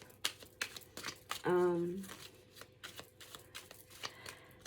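Tarot cards are shuffled close by in a burst of papery riffling and flapping, set among scattered soft clicks and handling noises from the deck.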